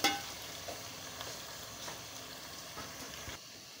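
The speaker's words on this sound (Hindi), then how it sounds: "अब इसकी भुनाई करते हैं अच्छे से। 5 मिनट के लिए इसकी अच्छे से भुनाई करेंगे।" Chicken sizzles steadily in a pan with oil, frying quietly with a continuous hiss. Faint scrapes of stirring break the sizzle now and then.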